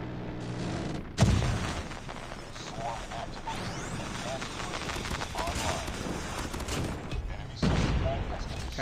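Heavy-kicking gun firing in Call of Duty, bursts of dense rapid shots running almost continuously, loud and close, with brief pauses and someone talking over the fire.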